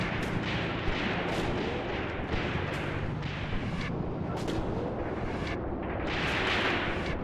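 Gunfire from a half-track vehicle in the Graviteam Tactics: Mius Front war game, with steady rumbling battle noise and repeated sharp bursts of shots throughout.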